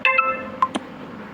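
A short Telegram 'Plug' notification tone plays as a preview, a quick set of bright electronic blips packed into about a second, close and clear with no talking.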